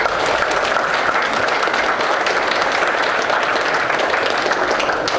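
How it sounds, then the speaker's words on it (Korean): An audience at a gathering welcomes a speaker with sustained applause, a thick, even roar of many hands clapping at steady loudness for several seconds with no talk over it. "박수로 환영해 주시면 고맙겠습니다."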